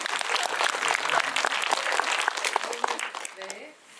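Audience applause at a film screening Q&A fills the room, dense and steady for about three seconds before tapering off as a voice resumes speaking near the end.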